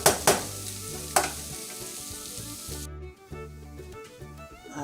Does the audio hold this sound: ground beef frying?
yes